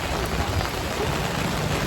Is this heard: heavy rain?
yes